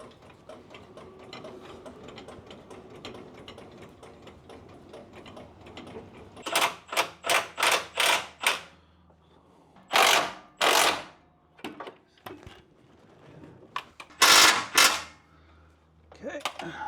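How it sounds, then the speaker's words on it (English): Bolts being undone on a Jeep JK during fender and rock slider work, heard as bursts of rapid mechanical ratcheting and clicking that come in clusters. A low background rumble fills the start, and the bursts grow louder and sharper toward the end. "Undo all the bolts."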